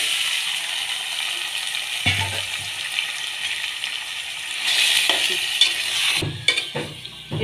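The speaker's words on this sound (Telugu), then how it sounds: "దీన్ని కాసేపు ఎర్రగా అయ్యేటట్టుగా మగ్గనిద్దాం నూనెలో." Chicken coated in ginger-garlic paste, turmeric and onion sizzles steadily in hot oil, a loud broadband frying hiss that swells near the end, broken by a few stirring knocks and scrapes.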